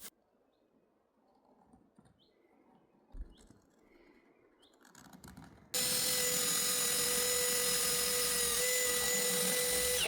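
Power drill boring holes for 8mm bolts with a 6.8mm bit into a Ford Transit van body, a loud steady whining drone that starts abruptly after several seconds of quiet handling noises.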